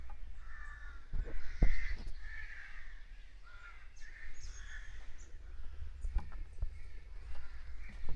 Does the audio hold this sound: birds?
yes